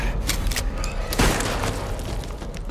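Gunfire from Silent Hill 2 Remake on PS5: a couple of sharp, booming shots, the strongest near the middle, over low rumbling game ambience with no talking.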